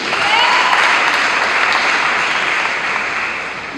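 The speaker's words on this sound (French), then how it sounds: "Merci pour tous vos applaudissements." Sustained applause from a congregation at a thanksgiving mass, a dense, steady wash of many hands clapping that fades slightly toward the end, with no speech over it.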